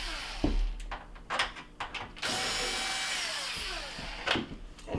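Ratchet turning the mounting bolts on a built-in GE cooktop, several short clicking bursts and one longer run of rapid ratcheting, close but fairly quiet, with no talk.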